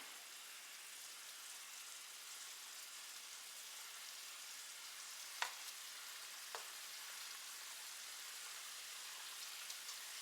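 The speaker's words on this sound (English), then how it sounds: "It's boiling really hard now" A quiet, continuous bubbling hiss of apple jelly at a hard boil in a pot, with a couple of soft clicks in the middle.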